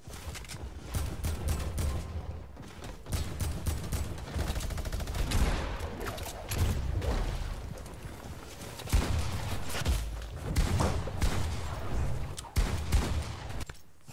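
Rapid bursts of gunfire in a Fortnite Team Rumble match, dense repeated shots and volleys stretching on with brief gaps, loud and close throughout.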